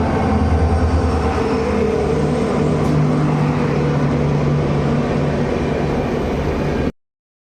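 A diesel locomotive rumbles steadily and loudly nearby with a constant low engine drone and rolling rail noise, ending abruptly in silence.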